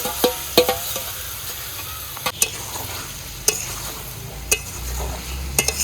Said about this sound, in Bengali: ম্যারিনেশন করা মাংসটা কড়াইতে দিয়ে দিলাম।